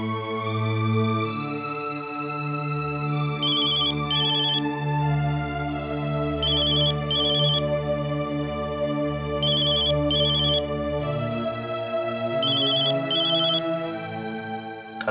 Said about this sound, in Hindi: अरे फोन की बेल बज जा रही थी, कभी तुम फोन उठा नहीं रहे थे।